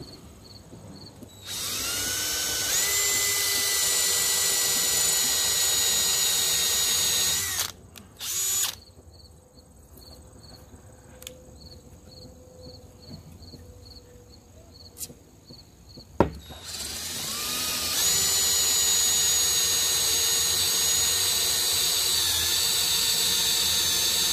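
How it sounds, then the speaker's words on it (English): A Dremel rotary tool widens holes in a plexiglass arcade control panel, whining steadily and loudly in two long bursts with a short stop-start stretch and a quiet pause between them. "think we'll widen the holes a little bit because obviously I'm going to be putting that tool down there, the Dremel"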